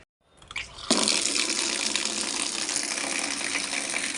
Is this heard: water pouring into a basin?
yes